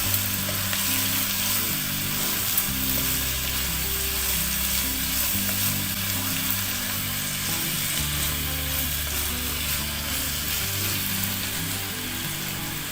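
Minced meat with green chilies for keema shimla mirch fries in a pan, giving a steady, even sizzle with faint stirring and a low hum beneath, continuous and close with no voices.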